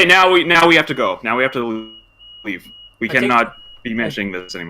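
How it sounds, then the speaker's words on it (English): A thin, high electronic beep from a house alarm repeats steadily in the background while people talk over it in the foreground. "I think my house alarm just went off"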